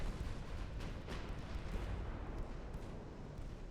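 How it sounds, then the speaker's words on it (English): Heavy 12-inch battleship guns firing in a naval battle in Ultimate Admiral: Dreadnoughts, a dense, continuous rumbling roar of booming blasts that stays loud throughout. "Listen to the 12-inch guns go off."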